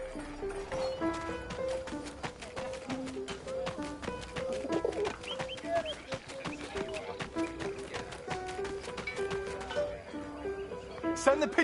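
A pigeon coos in the video game 11-11 Memories Retold, soft repeated calls set among clip-clop hooves, bustle and other ambient game sounds.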